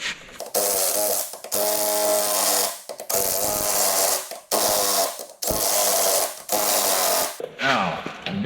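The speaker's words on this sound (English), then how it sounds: "you definitely want to tighten those to specification" A spring and washers on a wrecker toy are tightened with a hand tool, giving repeated mechanical ratcheting bursts with brief pauses between them, loud and close.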